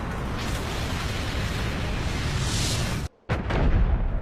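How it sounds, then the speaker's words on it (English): A powerful explosion spell in a modded Noita game roars as a sustained, loud rumbling blast for about three seconds, cuts to silence abruptly, then bursts back with another crackling boom. "It's the most powerful spell. It's just straight up explosion."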